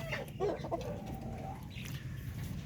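Darag native chickens cluck and call in a pen, with a couple of close clucks early on over a steady low hum of farm noise.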